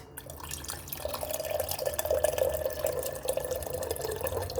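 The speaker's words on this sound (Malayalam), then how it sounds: "വെള്ളം ഒഴിക്കുക" Water pours steadily into a vessel of spiced buttermilk (sambharam), making a continuous close trickling sound.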